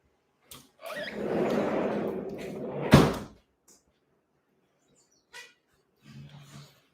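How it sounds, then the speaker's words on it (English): A door pulled shut indoors with a single sharp thud, set against a steady rumble of lawn mowing outside that fades once it closes; faint scattered noises follow. "Sorry, I need to close the door."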